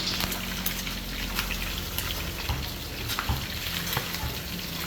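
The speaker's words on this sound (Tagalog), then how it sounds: "Ganyan lang yung gawin nyo pag magpiprito, yung tumatalsik." Hot oil spattering and sizzling steadily as food fries in a pan, a dense crackling hiss with scattered sharper pops and a low background hum, fairly close and continuous.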